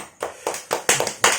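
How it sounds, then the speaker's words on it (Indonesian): A small group claps for guest Ipan Dede on a chat show: a short burst of about half a dozen uneven, close hand claps with no talking. "Tepuk tangan dulu."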